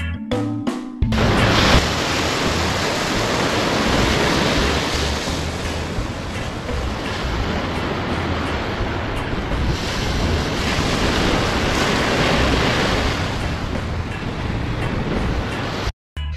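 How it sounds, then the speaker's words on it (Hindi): Sea waves, a loud, continuous surging wash of surf with wind, close and steady for the whole stretch, with no speech over it. "स से समुद्र।"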